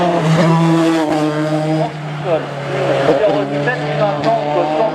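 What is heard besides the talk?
Formule Renault race car passing at a hill climb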